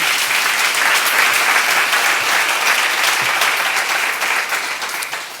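Audience applause at a church seminar, a loud, dense and sustained wash of clapping from a large crowd that fades slightly toward the end, with no speech over it.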